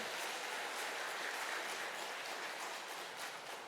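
Soft, steady applause from a church congregation at a worship service, a continuous even wash of clapping heard from a distance with no talking over it.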